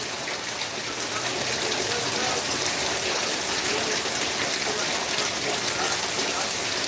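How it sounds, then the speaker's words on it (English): Heavy rain pours down hard, a loud, dense, unbroken hiss of water on surfaces that goes on steadily throughout. "That's some scary ass rain right there."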